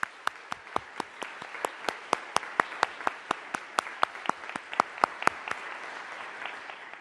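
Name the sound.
round of applause from the audience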